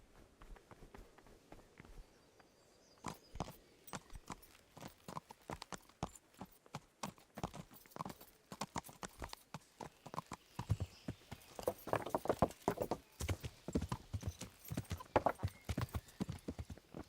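Horse hooves clip-clop steadily in the medieval game Kingdom Come: Deliverance, a close run of sharp rhythmic hoofbeats that quickens toward a trot, alone without talk.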